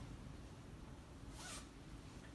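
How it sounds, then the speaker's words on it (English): A zipper on a bag is pulled open in one short, quick rasp during a magic show, faint against a low steady background hum. "you're gonna open the zipper and show him it's empty"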